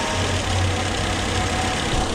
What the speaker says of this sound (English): You hear it? You even hear the idle moving.